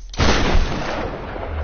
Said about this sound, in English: Oh, a little area to use my shotgun.